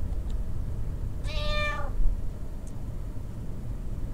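A cat in the Twilight Syndrome video game gives one clear, drawn-out meow in the middle, loud over a steady low background hum, with a faint chirp shortly after.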